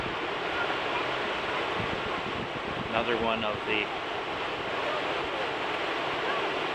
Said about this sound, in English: dams along the river. I think they're more accurately called weirs. And you see that fast running part coming through.